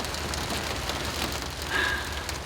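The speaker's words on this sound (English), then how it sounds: "It's actually kind of a gentle rain right now." A gentle rain falls steadily outdoors, making a continuous soft, even hiss of drops with no voices or other distinct sounds over it.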